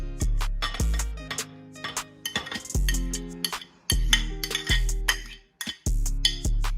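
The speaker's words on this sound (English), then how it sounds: "I'm just going to mix that pretty well." A spoon or utensil clinking repeatedly against a bowl while mixing burger sauce of ketchup, mayo, caramelized onions and pickles, sharp metallic taps in an irregular rhythm with resonant ringing tails, close and clear.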